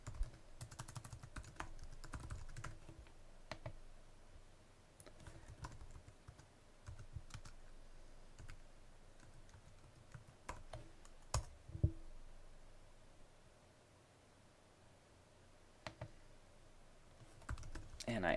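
A computer keyboard is typed on while a login password is entered. The keys give quiet, irregular clicks in short bursts with pauses between them, heard up close at a low level.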